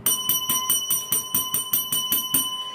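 A bright bell rings in rapid, even repetition, about ten quick dings in a row, close and clear over a faint hiss.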